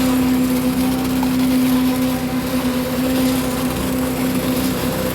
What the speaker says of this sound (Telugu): బండి ఆడున్నది, పంప్ ఆడున్నది.